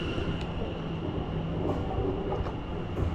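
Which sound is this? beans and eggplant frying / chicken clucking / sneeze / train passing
train passing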